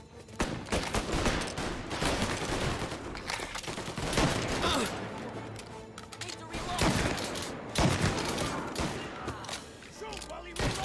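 Gunfire in the video game Mafia Definitive Edition, with repeated loud bursts and single shots in an irregular firefight rhythm. Voices shout over the shooting.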